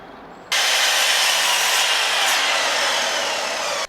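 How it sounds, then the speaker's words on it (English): A miter saw cuts angles in wood for a shed build, a loud steady whine that starts abruptly, holds for about three seconds and stops, close by with no talking. "I cut the angles on the miter saw"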